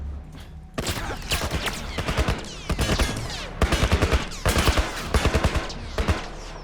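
A military turret fires rapid bursts of automatic gunfire in The Last of Us, repeated volleys sounding loud and close with brief gaps between them.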